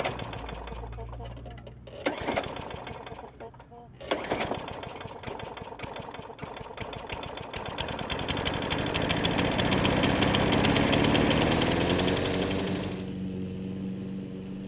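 An old lawn mower, at least twenty years in service, runs steadily with a busy mechanical chatter that swells louder toward the middle and tapers near the end, loud and close throughout.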